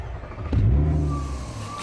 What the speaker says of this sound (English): it's a six-cylinder engine with 241 horsepower